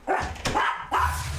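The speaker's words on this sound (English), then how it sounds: "Poochie, stop fucking barking, bro." A pet dog named Poochie barks three times in quick succession, sharp and fairly close, with brief gaps between barks and no talking over them.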